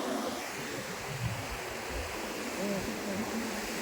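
Water runs in a steady, even rush along a canal feeding into a lake, a continuous moderate wash of flow heard alone without talk.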